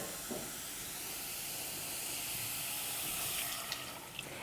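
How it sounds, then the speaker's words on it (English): Steady hiss of steam and bubbling water from a covered pot of frozen broccoli in a cup of water, constant throughout with a couple of faint clicks near the end. "I'm gonna cover this and let it steam for about 10 minutes"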